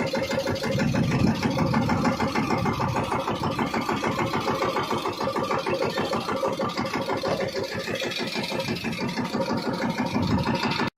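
A tractor engine running in a farm field while fertiliser is sown: a steady, mid-pitched diesel chug with a rapid regular pulse, close and continuous throughout.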